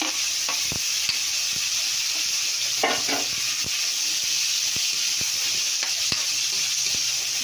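Tomatoes and a little meat sauté in a hot pan with a steady sizzle, broken by scattered clicks and scrapes of stirring throughout.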